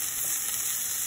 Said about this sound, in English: We're sauteing the onions in the same pan with all that bacon.